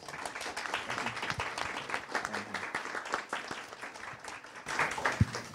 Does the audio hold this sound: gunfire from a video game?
no